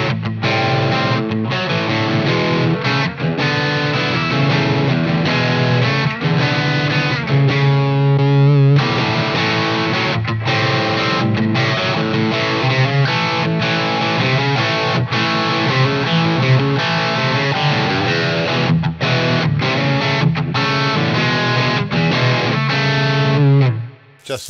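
Electric guitar through a Shanks overdrive pedal on a boutique pedalboard: steady, loud crunchy overdriven chords and riffs for about twenty-four seconds, cutting off abruptly at the end, with no talk.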